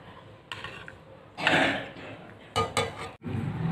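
A spoon scrapes and clinks against a cooking pot while keema-stuffed bell peppers are lifted out, giving several short metallic knocks and rubs up close with no talking.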